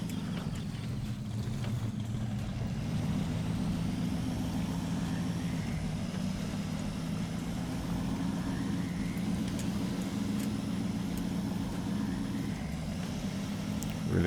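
A Hummer H1 mod in SnowRunner, fitted with its second, more powerful engine option and a low range gearbox, drives along with a steady, loud, droning engine hum that stays constant throughout, with no talk over it.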